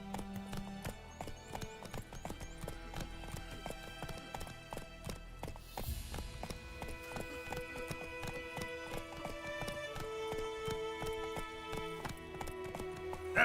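Roach, a horse in The Witcher video game, clip-clops along in a steady, rhythmic gallop of hooves, carrying on continuously beneath a dense layer of orchestral game music.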